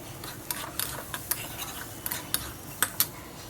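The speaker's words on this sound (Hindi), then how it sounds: "अच्छे से मिक्स कीजिए" A spoon stirs broken wheat dalia with sautéed spices in a pan, giving soft scraping with irregular metallic clinks, close and fairly quiet, with no talk.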